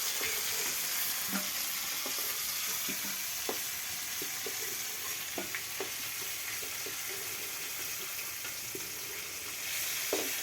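Pieces of magur catfish frying in hot oil in a pan give a steady close sizzle with scattered small pops and crackles throughout, no voices.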